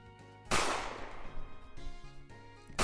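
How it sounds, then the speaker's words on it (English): A loud, close gunshot in a Pokemon romhack video game cracks out and rings into a long decaying tail, sounding over tonal game music, and a second sharp burst cuts in right at the end. "The gunshots are so loud."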